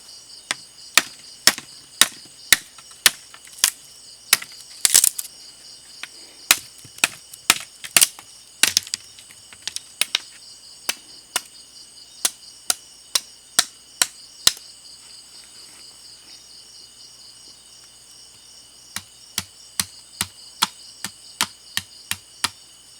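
A knife chops down on a green snake's head in rural Laos, sharp repeated strikes in uneven bursts and runs, some quick and rhythmic, with insects chirping steadily in the background and no talk.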